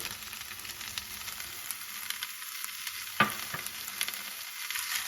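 Jack cheese being stirred into meatloaf in a pan, a quiet low sizzle with soft scraping strokes and one sharp clink of a utensil partway through, close and fairly faint.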